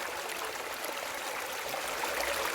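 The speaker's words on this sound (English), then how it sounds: "there's plenty of water flow" Water gushing steadily from a wrap-around spray bar on a 6-inch Gold Rat highbanker, a continuous even hiss of flow heard alone at close range.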